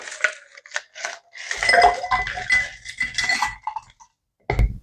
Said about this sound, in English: Add ice.